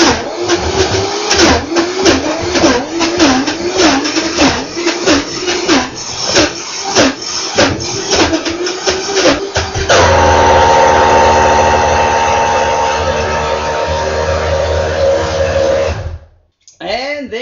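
A Vitamix blender grinding mixed nuts into nut butter, loud and close, first a choppy labored whir with rhythmic pulsing, then a smoother steady high-speed roar before it switches off, with talking over it.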